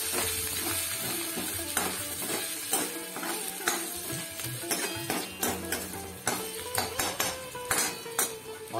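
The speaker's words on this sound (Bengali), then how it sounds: "আদাটা একটু কষে নিতে হবে" Chopped ginger sautéed in a pan sizzles under a dense series of sharp spatula scrapes and knocks against the metal, quickening toward the end.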